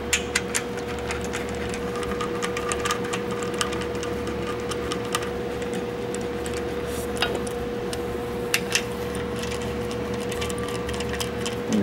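Cylinder head bolts being run down on a 1.3L Suzuki Samurai engine, a steady rapid ticking and whirring of a tool over a constant mechanical hum, close and continuous with occasional sharper clicks.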